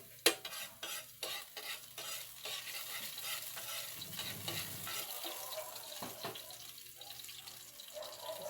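Garlic sautéing in a pan, a steady sizzle with repeated scraping stirs and clatters of a utensil, quiet and close, opening with a sharp knock.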